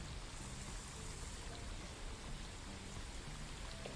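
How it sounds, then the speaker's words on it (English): Steady, even rainfall hisses continuously with soft patter, a constant wash of drops without pause. "notice that it sounds actually like rain, amazingly"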